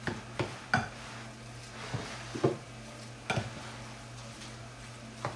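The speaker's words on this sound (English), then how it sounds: "I'm still stirring in that piece of ghee" A rutabaga and beef mixture with ghee gets stirred in a pan, giving a handful of separate scraping and knocking strokes at irregular intervals over a low steady hum, quiet and close, with no talking.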